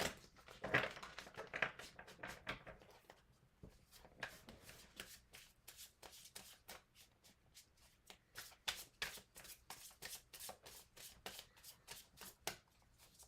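Neon Pan tarot deck being shuffled by hand, with a flurry of close riffling card snaps at first, then a long series of quick, evenly spaced flicks and taps, crisp and near.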